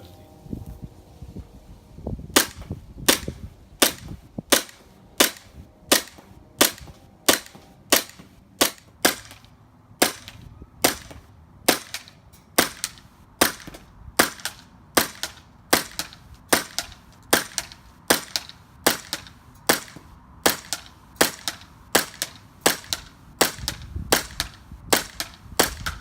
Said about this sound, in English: now let's go ahead and check out how to go ahead and do the shooting test. The Spartan Imports Glock 17.